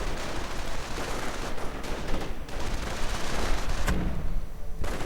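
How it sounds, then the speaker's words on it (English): MP40 submachine gun fire in a wartime strategy game battle, a dense unbroken rattle of automatic bursts mixed with other distant gunfire, loud and continuous with no voices. "MP40's up, tearing through the riflemen"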